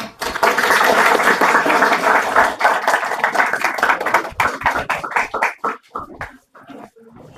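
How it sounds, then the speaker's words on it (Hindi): Audience applause at a confidence training seminar in India, dense clapping from a room of people that swells early, then thins into scattered claps and fades out near the end. "तो आइए आपकी तालियों के बीच में बुलाता हूं"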